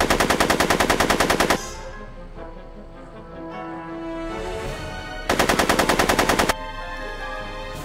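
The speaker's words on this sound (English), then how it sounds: "Are you shooting at me?" Rapid machine-gun bursts from the video game Back to the Future, two loud rattling volleys separated by a quieter stretch with faint background sound.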